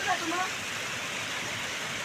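A mountain stream swollen by the first monsoon rain, with water rushing downhill in a steady, loud, broad hiss close by; a voice is briefly heard at the start over the flow.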